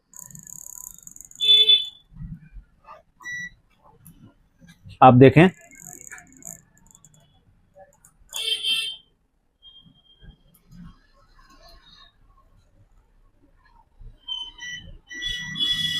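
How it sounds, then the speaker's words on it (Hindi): A multimeter set to buzzer continuity mode beeps in short high tones while its probes test the gate line on a Sansui 4K LED TV panel, with someone talking between the beeps. "कहां पे बजर बज रहा है।"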